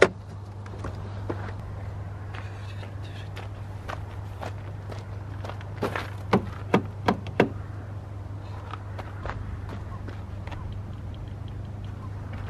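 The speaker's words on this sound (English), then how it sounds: "One thing I really hate about this car is this locking system." A 2014 BMW X5's door locking system at work: a handful of sharp, close mechanical clunks in quick succession, set against a steady low hum and scattered faint ticks.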